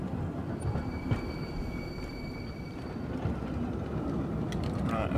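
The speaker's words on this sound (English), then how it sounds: "This tram really is so slow," Tram running on rails in the Tram Simulator Urban Transit video game, a continuous loud rumble of wheels and car rattle with faint thin squeals above, steady throughout.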